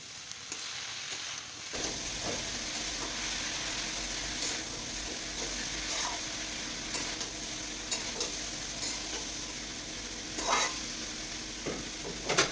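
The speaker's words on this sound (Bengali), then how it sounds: "এরপর নেড়েচেড়ে একটু কষিয়ে নিয়ে আমি দিয়ে দিলাম বাঁধাকপিটা যেটা আগে থেকেই ধুয়ে জল ঝরিয়ে রাখা ছিল" Cabbage being stirred and fried in a pan: a steady, close sizzle runs throughout, with scraping stir strokes scattered across it and no voices.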